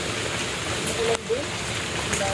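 Steady rain falls with a continuous hiss, with a few brief vocal sounds partly buried in the noise.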